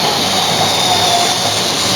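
Model railway train running over dirty track, a loud, steady whirring rumble with faint squealing tones, continuous and close, no voices.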